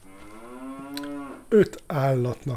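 A cow moos in a cow barn in the Force of Nature 2 video game, with a long, loud, drawn-out low call followed by a second shorter moo, heard alone.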